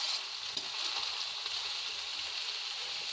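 Rice roasts with salt in a hot pan for dal chawal, giving a steady, close, hissing sizzle with faint scraping and no talk.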